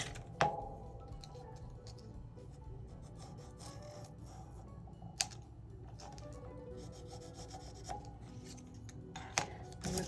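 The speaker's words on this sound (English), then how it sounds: "this piece of very cheap foam board, and I am just going to cut it to size." A craft knife cutting a piece of cheap foam board to size, quiet scraping and rubbing strokes close by with a few sharp clicks and taps along the way.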